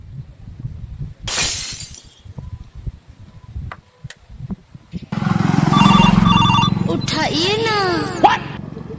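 A phone ringtone plays in warbling repeated tones after a sharp crash and some background clatter, ringing loudly near the end.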